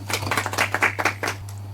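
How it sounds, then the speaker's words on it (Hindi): Brief burst of audience applause on the TV quiz show Genius Kaun, a quick run of sharp claps over a steady electrical hum that fades out after about a second and a half. "जोरदार ताली हो जाए दक्ष के लिए भी।"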